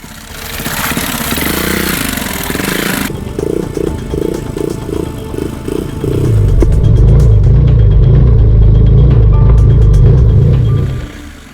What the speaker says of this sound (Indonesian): motor andalan ini kembali ditantang menaklukkan sungai